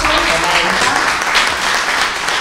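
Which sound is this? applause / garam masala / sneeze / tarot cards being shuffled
applause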